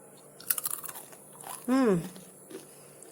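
A bite into crunchy homemade caramel ginger candy (ting ting jahe) gives a short, close crunch, with brief chewing and a quick vocal reaction around it.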